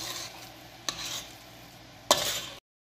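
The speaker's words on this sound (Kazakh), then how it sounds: "Енді на водяной бане жаңағы творогымызды араластырып отырамыз." Steady stirring of curd in a pot over a water bath, a soft continuous scraping with two sharper clinks, no voices.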